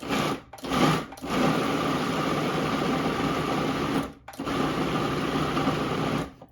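A food processor whirs steadily as it blends a black bean meatloaf mixture, a dense, loud motor drone broken by a few brief pauses, with no talking.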